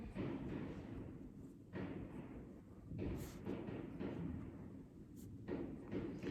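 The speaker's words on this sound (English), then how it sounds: "I think you could hear the fireworks sounds in the background." Muffled booms and thuds go off repeatedly at irregular intervals, distant and dull, rumbling in the background.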